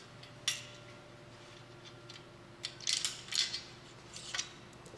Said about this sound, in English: We're also going to go ahead and uninstall the lower clamp plate.